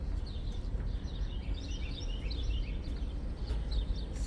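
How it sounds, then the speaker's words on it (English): Small birds chirp and twitter in a quiet residential neighborhood, bright repeated calls scattered across a steady low outdoor rumble, moderately distant, with no talking. "Listen to the birds."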